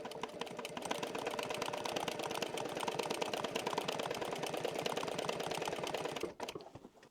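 A sewing machine stitching leather with a fine, dense stitch, a fast steady mechanical chatter running for several seconds before stopping abruptly, close and fairly quiet.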